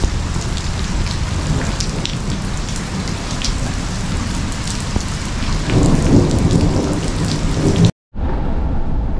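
A thunderstorm pours heavy rain during a road trip in Argentina near Iguazu, a loud steady wash of rainfall with rumbling thunder swelling toward the end before a brief cut to silence and a return of rain.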